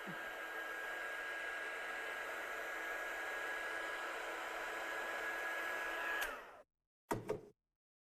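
A handheld blower dries outside ink on a handmade card, giving a steady, loud whooshing hiss for about six seconds, then cutting off, followed by one brief second burst.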